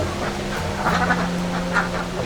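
A dense chorus of about 530 confined farm ducks quacks continuously, many birds at once, with a steady engine-like hum underneath.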